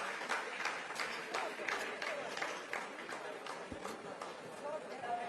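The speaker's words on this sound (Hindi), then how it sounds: "आप इस तालियों के गड़गड़ाहट को सुन सकते हैं" Scientists in mission control applauding after a lunar landing phase completes, a dense continuous patter of clapping at moderate distance with sharp individual claps standing out.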